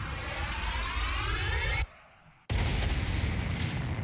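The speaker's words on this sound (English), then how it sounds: "an explosion so fierce it dwarfed all previous bombardments, an explosion that seemed to rip apart the very heavens" A massive explosion from the video game Dies Irae roars as a dense, loud, sustained blast, cut by a brief near-silent gap before the thunderous roar resumes at full force.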